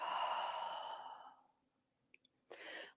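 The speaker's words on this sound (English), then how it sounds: "And breathing out." A long, audible exhale during an energizing yoga exercise, a breathy sigh fading out over about a second and a half, followed by a brief quiet pause, small clicks and the start of another breath.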